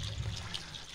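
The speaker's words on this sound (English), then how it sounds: "We fill in the deep water trough with fresh water, dechlorinated water" Fresh dechlorinated water pours steadily into a deep water trough of a greenhouse aquaponics setup, a continuous close rushing flow with a low rumble underneath.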